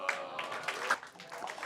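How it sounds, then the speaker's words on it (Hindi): Audience applause at a live Hindi poetry and comedy stage show, a broad continuous wash of clapping that stays fairly steady and moderately loud throughout, with some voices mixed in. "जोरदार तालियों के बीच"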